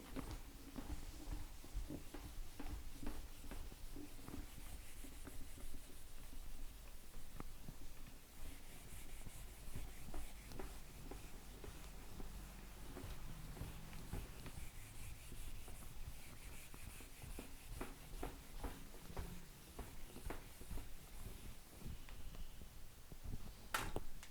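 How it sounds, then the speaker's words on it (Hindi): Eraser or cloth rubbing writing off a classroom board, steady scraping strokes running for the whole stretch, close and continuous with no talking. "इतने में इसको रब कर लेती हूँ"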